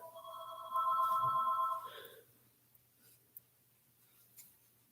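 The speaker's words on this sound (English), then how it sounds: "It's my house phone, sorry." A house telephone rings indoors with one bright electronic trill, loud and close, then cuts off, leaving faint room noise with a few small clicks.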